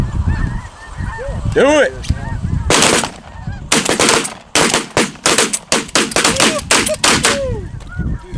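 Snow geese honk in a dense, overlapping chorus during a hunt from inside a decoy spread, close and loud, followed by a rapid series of sharp shotgun blasts with the honking continuing between them; a voice calls out briefly.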